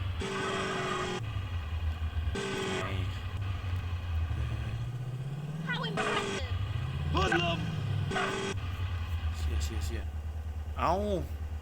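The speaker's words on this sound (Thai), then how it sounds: "ผมขึ้นรถไฟมาอีกขบวนหนึ่งนะ" Engine and vehicle rumble from a train ride in GTA San Andreas, a steady low drone with shifting game effects and occasional chirps over it; a voice talks throughout.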